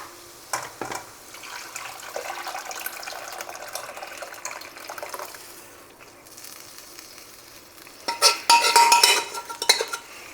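Dal is stirred into fried masala in a pan with soft wet scraping and sloshing, quieter through the middle and rising into a burst of louder clattering stirs near the end.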